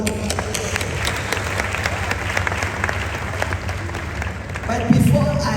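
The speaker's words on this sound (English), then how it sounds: "So you deserve a big round of applause." An audience at a conference gives a big round of applause, continuous loud clapping from many hands with a rising surge near the end.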